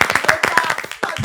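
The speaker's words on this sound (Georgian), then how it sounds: "აპლოდისმენტები მეგობრებო." A TV studio audience greets arriving guests with loud, close, brisk clapping that stops for a moment and then resumes.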